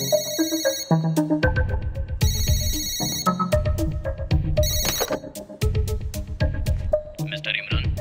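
A telephone rings repeatedly in loud electronic bursts, the ringtone cycling through bright tones for several seconds with brief gaps between rings.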